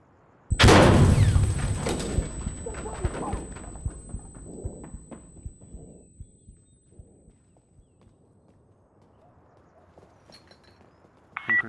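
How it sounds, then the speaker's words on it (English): A frag grenade goes off in a back room in the video game Insurgency Sandstorm: one sudden, loud blast that decays into a long rumbling tail. Scattered faint knocks and shots follow. "I'm gonna throw a frag into this back room. Frag out!"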